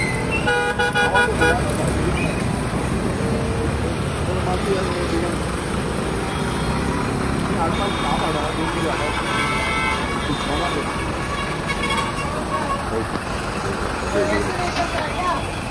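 A Panjim road junction blocked by parked trucks fills with heavy motor traffic, a loud, continuous rumble of cars, buses and trucks with repeated horn toots, while people talk over it.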